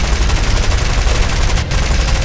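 Aircraft turret guns in War Thunder fire in a loud, continuous rapid burst of gunfire, dense and close throughout with only a brief dip near the end.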